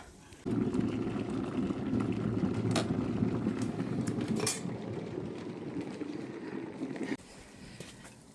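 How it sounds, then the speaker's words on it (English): Close, loud scraping and grinding on the hard ice of a frozen bird bath for several seconds, punctuated by a few sharp knocks, then it stops abruptly. "Oh goodness, this is completely frozen. So I'm gonna break that open real quick"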